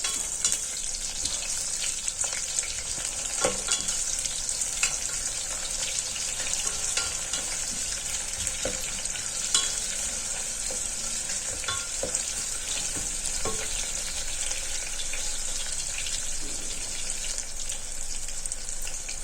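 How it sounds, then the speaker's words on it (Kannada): Thickly cut onion fries in a pan with a continuous, crackling sizzle, broken by occasional sharp pops and stirring clicks; close and even throughout, no talking. "ಇವಾಗ ಇದನ್ನು ಹಾಕ್ಕೊಂಡು ಒಂದು ಸ್ವಲ್ಪ ಫ್ರೈ ಮಾಡ್ಕೊಳ್ಳಿ."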